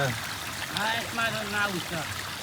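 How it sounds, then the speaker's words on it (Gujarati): Clean water flows down a rocky hillside at a hill fort, trickling steadily and faintly while someone talks over it. "મસ્ત મજાનું પાણી આવી રહ્યું છે ભાઈ ડુંગર ઉપરથી"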